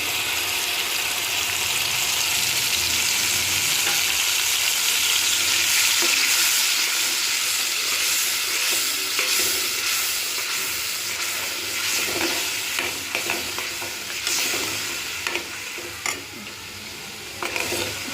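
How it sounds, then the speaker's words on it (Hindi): Tomato paste fries in oil with spices, garlic and ginger paste for an achari brinjal kadhi, a loud steady sizzle with frequent spoon scrapes and clicks against the pan, easing toward the end, no talking. "मसाले में से भी इसमें ही ये टमाटर का पेस्ट डाल देंगे।"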